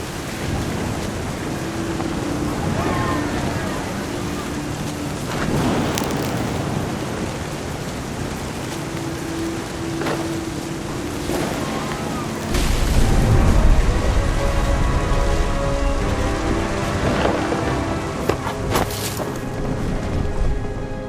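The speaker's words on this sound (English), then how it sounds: "The thunder sounded much too close and full of angry power" Rain hisses steadily in the video game What Remains of Edith Finch, with thunder rumbling and booming close by. The storm swells noticeably louder halfway through, and a low musical tone sits faintly under it.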